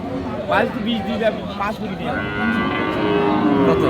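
Sahiwal cows and calves mooing at a rural cattle market in Dinajpur, with loud nearby lowing and moos rising and falling over a steady babble of voices and people talking close by.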